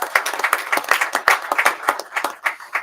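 Applause breaks out at a school board meeting for Shane Gage: a dense run of hand clapping from a room of people, moderately loud and steady throughout.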